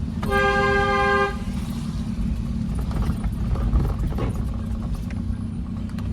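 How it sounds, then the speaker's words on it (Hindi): A car horn gives one firm blast of about a second, close by, over the low rumble of a car driving slowly on a narrow single-lane road. "हॉर्न।"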